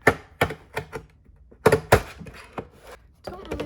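A blade cuts through a cardboard book cover, giving sharp irregular thunks and scraping cuts at close range, several distinct strikes spaced over a few seconds in an otherwise quiet room.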